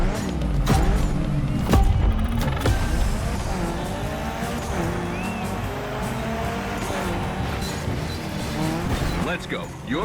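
Mitsubishi Evo 9 driven in The Crew Motorfest gymkhana event, engine roaring steadily with tire squeal and skidding throughout, loud and close.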